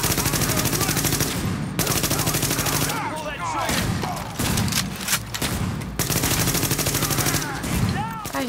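Dense, loud gunfire in The Division, with enemy shotgun blasts mixed into sustained rapid bursts, a few short pauses breaking up nearly continuous shooting and faint voices underneath.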